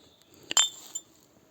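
A glass beer bottle found at a forest dump site clinks sharply once or twice as it is handled, a bright close chime followed by a fainter tap, otherwise quiet.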